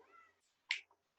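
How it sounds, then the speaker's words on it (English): A domestic cat gives a brief, quiet meow indoors, one faint short call followed by a soft sharp click, in near silence. "that was my cat"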